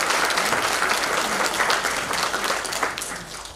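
A seated audience at a youth May Day show in a cultural centre in Moinești claps loudly and continuously, a dense wash of applause that slowly fades toward the end.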